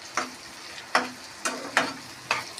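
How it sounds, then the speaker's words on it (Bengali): Onions frying in a pan, a soft sizzle broken by about five sharp, evenly spaced stirring strokes close by. "পেঁয়াজটা একটু হালকা লাল লাল ভাজা হবে"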